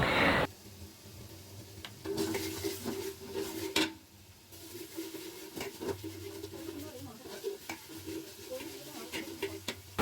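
Garlic paste and spices frying in a pan while being stirred, a steady sizzle with scraping strokes of a spoon through most of the stretch, moderately close.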